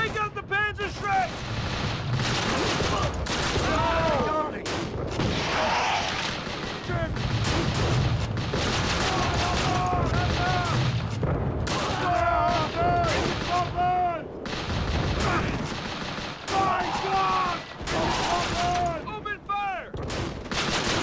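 Constant gunfire and artillery blasts fill a World War II battle in the Call of Duty: Roads to Victory video game, dense overlapping shots and booms throughout, loud and continuous, with shouted voices mixed in at times.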